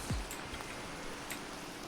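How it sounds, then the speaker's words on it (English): Steady rain in the Minecraft video game, a soft continuous patter with a brief low swoop at the start, no talk. "I know it's raining out, but we must head back to our house in the rain."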